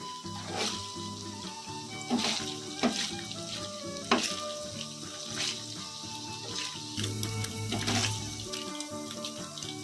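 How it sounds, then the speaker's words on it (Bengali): Paneer cubes fry lightly in hot oil for an aloo matar paneer dish, a continuous crackling sizzle with repeated louder spits and stirring clatter every couple of seconds, close and without talk. "এর উপরে আস্তে আস্তে পনিরগুলো দিয়ে দেবো। খুব বেশি ভাজবো না, হালকা একটুখানি"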